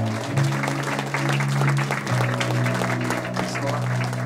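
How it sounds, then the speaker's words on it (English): Wedding guests clap together during a ceremony, a steady moderate patter of hands held under a sustained tonal hum of music, with no voices standing out. "let's practice our clapping."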